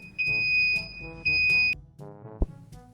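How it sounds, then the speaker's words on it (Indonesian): Electronic beeping from an automatic PLC-based drink dispenser alarm: several steady high-pitched tones, each about half a second long, repeated in a regular pattern over a low hum with a faint click. "Ketika alarm telah berbunyi, itu menandakan bahwa gelas telah siap untuk diambil"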